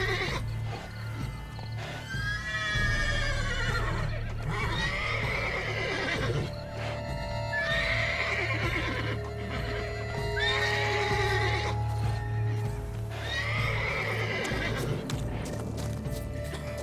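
Horse in the video game Witcher 3 whinnying again and again in long, loud neighs, with steady clip-clop of hooves and a low rumble underneath throughout.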